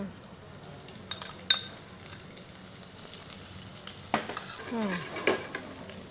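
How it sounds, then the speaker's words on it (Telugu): Finely chopped green chillies fry in oil for paneer bhurji, a soft close sizzle punctuated by a few sharp utensil clinks and stirring scrapes. "ఇప్పుడు ఇందులో మనం ముందుగా కొంచెం సన్నగా తగిన పచ్చిమిర్చి వేసుకుందాం"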